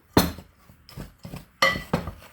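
Chopped pecans stirred into a crumbly butter topping for sweet potato casserole, a spoon scraping and clinking against the bowl in four or five distinct strokes.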